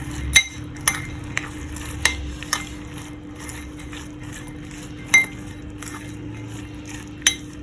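A spoon stirs coriander chutney into a dish, giving scattered light clinks against the bowl over a quiet background, with a few sharper taps spaced irregularly.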